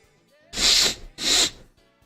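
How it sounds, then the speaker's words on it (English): Two loud, close sneezes in quick succession, each a sharp bright burst lasting about half a second, separated by a short pause, with quiet room tone around them. "I do not want to sneeze all over the place."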